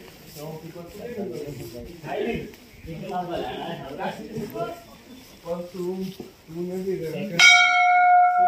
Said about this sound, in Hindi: जाते वक्त घंटी बजा दी इन्होंने कि जा रहे हम